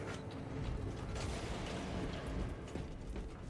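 A heavy gate grinds open in the game Warhammer 40,000: Space Marine II, a dense continuous mechanical rumble of gears and ratcheting metal lasting a few seconds.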